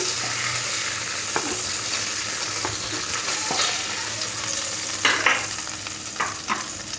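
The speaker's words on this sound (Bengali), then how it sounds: "ইলিশ মাছ বেশি ভাজতে লাগবে না হালকা ভাজলেই হয়ে যাবে" Pieces of hilsa fish fry in hot oil with a steady, close, broadband sizzle, broken by a few sharp spatters and utensil clicks, the hiss swelling louder near the end; no one speaks.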